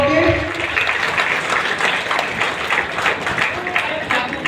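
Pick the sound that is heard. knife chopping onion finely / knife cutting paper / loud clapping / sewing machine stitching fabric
loud clapping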